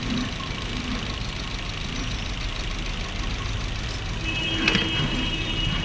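A Maruti Swift BS6 engine running with a misfire, a continuous close mechanical idle with an uneven, rough undertone and a brief louder bump near the end, no voices present.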